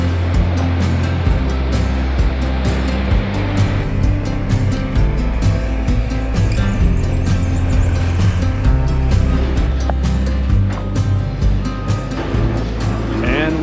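A cable car ride near a waterfall in Quebec City carries a steady, loud mechanical rumble and wind noise throughout, with light clicks and faint voices underneath.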